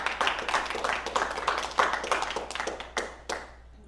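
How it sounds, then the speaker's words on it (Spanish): Scattered clapping from a church congregation at a water baptism service, in uneven bursts of nearby hands that taper off after a few seconds. "Denle un aplauso al Señor porque Él es bueno."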